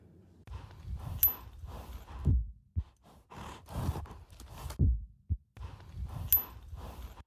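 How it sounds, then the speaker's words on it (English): Heartbeat sound effect with deep, soft thumps in slow, uneven pairs, moderately loud and alone apart from faint breathy texture and a couple of brief high pings, with no talking. "Four heartbeats."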